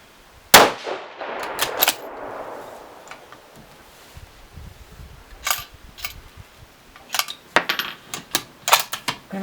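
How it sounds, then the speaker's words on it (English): Shots from a 6mm ARC hunting rifle firing 103 ELD-X or Barnes 95 gr LRX loads: one sharp loud crack near the start, followed later by clusters of short metallic clicks and clatters, with no speech. "we're gonna get 4 shots on our lab radar"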